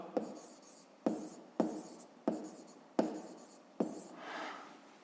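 Handwriting on paper while working a fifth-grade maths exercise: six distinct scratchy pen strokes, each a sharp attack fading out, spaced about a second apart, close and clear with no talking.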